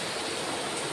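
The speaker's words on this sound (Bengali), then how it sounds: "এখন জল দিয়ে দিব মিষ্টি কুমড়ার মধ্যে" Water pours into pumpkin curry in a cooking pan, a short, steady hissing splash that is close and continuous.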